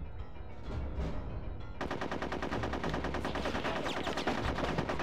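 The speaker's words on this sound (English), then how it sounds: "I have no problem shooting teddies." Gunfire shooting Tediz in Conker's Bad Fur Day, with rapid repeated shots starting after a short lead-in and rattling steadily at moderate volume.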